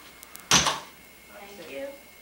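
An indoor door shuts with a single sharp thud at a family party, followed by quiet room sound and faint voices.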